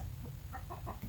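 Chickens on a backyard farm cluck softly in a few short bursts, close to the microphone over a steady low background hum.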